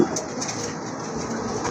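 Black German beauty homer pigeons coo softly in a brief, continuous low burble, close and steady, with no voices over it.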